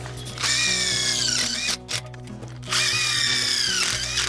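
A power drill drives Tek screws into a metal high tunnel greenhouse bow, whining loudly in two sustained bursts with a brief pause between them and no talk.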